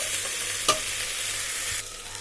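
Drumstick thoran being stirred in a pan, with a soft continuous sizzle from frying and a light scrape or clink of the spoon against the pan, close and alone.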